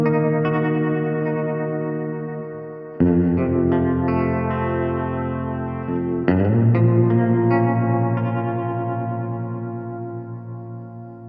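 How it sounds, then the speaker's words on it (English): An electric guitar played through a Source Audio True Spring Reverb pedal with tremolo engaged, three sustained strummed chords ringing out one after another with a pulsing, wet spring-reverb tail and no voices. "I can reach down and make quick adjustments to the tremolo effect."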